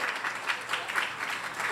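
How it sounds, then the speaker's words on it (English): A campaign crowd applauds State Representative Dotie Joseph, steady moderate clapping that sounds somewhat distant and soft, with no talk over it. "let's give State Representative Dotie Joseph another round of applause"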